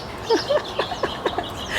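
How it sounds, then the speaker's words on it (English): Birds chirp outdoors near a brisket cookout, a string of short, bright, rising calls repeating every fraction of a second, moderately close over a quiet background. "You hear all those birds chirping?"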